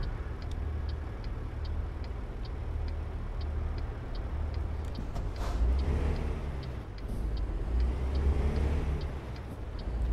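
Cars pass by in American Truck Simulator, soft engine and road noise swelling and fading over a steady rhythmic ticking like a turn indicator, with no talk.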